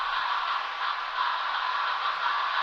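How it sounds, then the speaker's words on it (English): Guitars run fully wet through an Ableton throat texture effect, turning into a steady breathy, hissing wash with no clear notes, heard alone. "It sounds like the guitars breathe."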